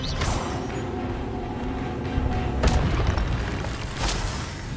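The Expelliarmus spell is cast in the Hogwarts Legacy video game, a loud whooshing boom with a rumbling, creaking magical burst and a few sharp hits, nothing spoken over it.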